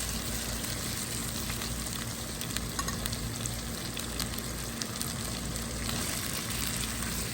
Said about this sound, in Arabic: هحمره كويس لغاية ما يغير لونه من لونه الطبيعي ويديني اللون الأحمر